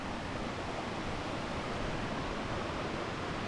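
River water and a small waterfall rushing along a forest hiking trail in Nantahala Forest, North Carolina, a steady, dense, loud broadband roar with no breaks and no voices.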